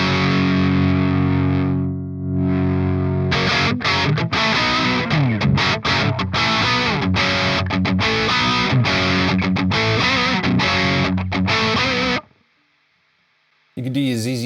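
An electric guitar running through the Shoeless Drive distortion pedal plugin plays a chunky, distorted rock riff with choppy rhythmic stabs, loud and close, ending in a brief pause before a short burst of noise.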